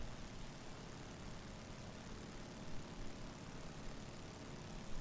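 A light aircraft's engine drones steadily in flight over high mountainous country on a long-distance route, a constant loud roar with no pauses or speech.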